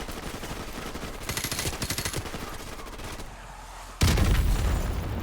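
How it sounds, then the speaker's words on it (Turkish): Gunfire and explosions from the Call of Duty Modern Warfare Remastered video game: a steady burst of rapid shots, then a loud, close boom near the end that keeps rumbling. "Bak bak bak nasıl bomba atıyorlar ya."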